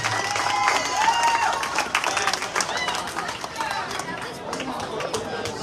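Applause and cheering from the crowd at a high school girls' bowling conference championship, mixed with chatter and whoops in a busy, echoing bowling alley, with clapping steady throughout.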